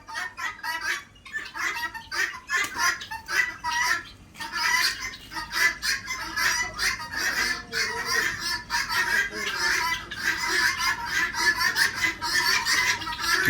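Chickens and roosters at a jungle forest resort near Koyna cluck and call steadily and fairly close, a dense, continuous run of bird calls throughout, with no talking.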